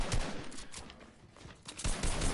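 Rapid bursts of video game gunfire, dense and crackling, fill the stretch with a brief lull in the middle before the shooting picks up again, with no talk over it.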